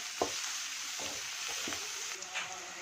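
Turmeric and garam masala stirred and frying in a pan, with a few soft scraping strokes of the spoon spaced about half a second apart over a steady low sizzle.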